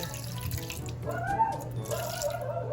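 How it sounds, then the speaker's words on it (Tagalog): Water poured from a container into a wok of pork for pinakbet with shrimp paste, a short splashing, gurgling pour close by with a rising bubbly tone. "Lalagyan ko din po yan ng kaunting tubig"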